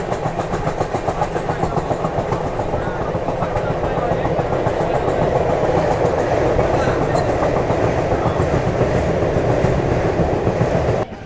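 Nizamuddin–Ernakulam Mangala Lakshadweep Superfast train rolling into Itarsi Junction, a continuous loud rumble with steady rhythmic clickety-clack of wheels on rail joints, heard close throughout.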